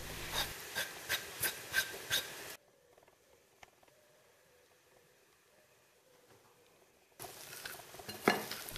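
A potato stuffing with onion, salt, grated garlic and chives is mixed in a bowl, producing a run of rhythmic spoon-on-bowl scrapes and knocks, then near quiet, then more mixing at the end.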